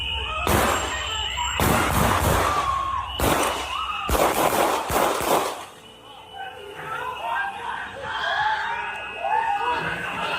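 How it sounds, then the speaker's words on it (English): Gunshots fired during a law enforcement shooting in Minnesota, heard in a news recording as a rapid burst of loud sharp cracks followed by a shorter volley, with shouting and screaming in the background. "I think you'll hear about 10 shots that were fired."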